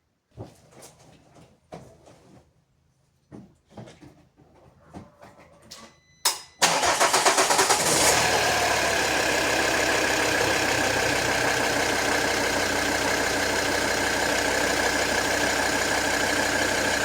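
A Volvo XC60 D3 diesel is cranked after a tensioner and drive belt replacement, with scattered clicks and clunks before the engine catches and settles into a steady, loud idle.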